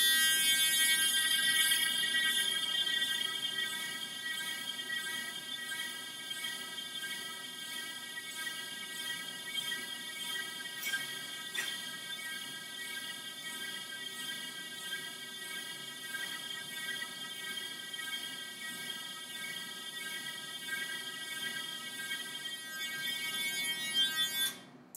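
A steady, piercing electronic buzzer tone sounds continuously, its pitch wavering slightly up and down as it moves, with no voices.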